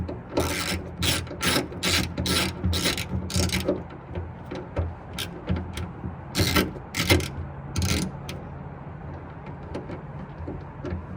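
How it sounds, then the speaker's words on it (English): A ratchet tightens the latch bolts on a carbon fiber trunk lid of an S550 Mustang, its pawl clicking in quick, even bursts separated by short pauses, close and distinct with no voice. "Now I'm tightening up these 3 bolts for the latch again."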